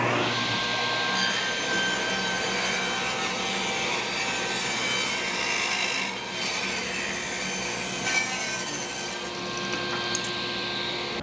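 Table saw running steadily as it rips wooden stock down to 1.5 inches wide, a continuous loud whine and cutting roar with slight dips near the end.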